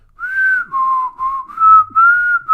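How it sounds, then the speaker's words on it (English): A person whistles a simple tune close to the microphone: five clear sustained notes in a row, each separated by short gaps, with faint background noise and no talking. "Now try whistling."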